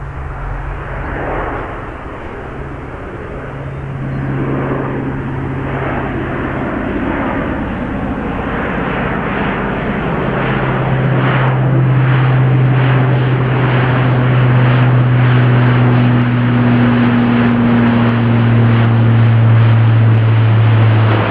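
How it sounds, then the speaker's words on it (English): An Airbus A400M Atlas propeller transport departs RAF Brize Norton, its steady turboprop drone building from a moderate rumble to a loud, sustained roar with rising and shifting propeller tones, heard alone without talk. "departing now is an A400M Atlas"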